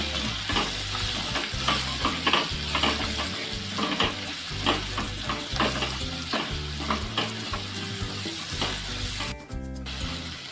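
Banana flower vegetable stirred in a hot pan with turmeric, garam masala and coriander powder, a dense sizzle broken by repeated rhythmic scrapes of a spoon against the pan, close and steady.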